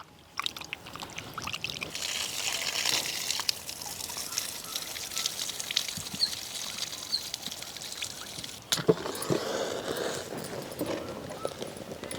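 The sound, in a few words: washing chicken under running water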